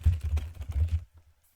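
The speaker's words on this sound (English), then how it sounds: "I'm keyboard mashing. That's the sound of my mashing" Rapid, hard mashing on a computer keyboard during a gaming stream, a dense flurry of close clicks and clacks for about a second, then sudden silence.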